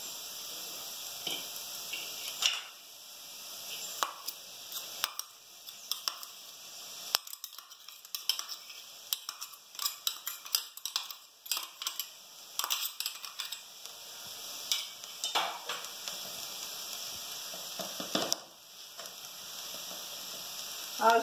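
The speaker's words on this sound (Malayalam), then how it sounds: "നമ്മൾ അരച്ചു വെച്ചിരിക്കുന്ന കൂട്ട് ഇതിലേക്ക് ഇട്ട് കൊടുക്കാം" A ground coconut-style paste is tipped into a pot of cooked sweet spinach (madhura cheera) curry and stirred in. Soft sizzling runs throughout, with scraping and clinking strokes and a few sharper knocks from a spoon against the pan, close by and with no voices.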